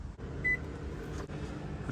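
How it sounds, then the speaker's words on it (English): A microwave oven hums at low level while heating a sandwich maker, with a short single beep near the start and a steady fan-like drone throughout. "I'll just chuck it in the microwave for a couple of minutes."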